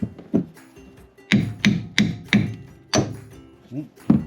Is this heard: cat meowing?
no